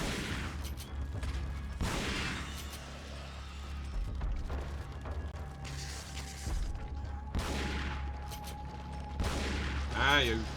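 Pistol and other gunfire in the 2005 video game Resident Evil 4 (Separate Ways), with several sharp shots over a constant low game rumble and clanking mechanisms, while someone talks through much of it.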